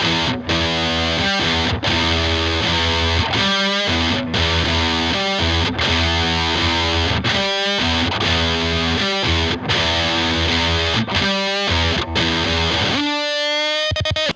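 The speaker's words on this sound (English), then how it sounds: "the mids that are provided by the overdrive distortion are still really good and help punch through the mix of the song" Electric guitar driven through an overdrive distortion pedal plays a chugging riff from a song, loud and close, with rhythmic palm-muted bursts, short breaks and a sliding run near the end, no voices.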